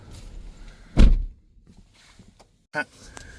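A door on a 2025 GMC Sierra EV truck swings shut with a single solid, close thunk. A quieter knock follows a couple of seconds later in an otherwise quiet cabin.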